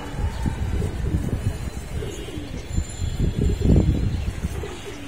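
Young pigeons coo softly in a rooftop loft, low murmuring calls mixed into steady wind-like outdoor noise.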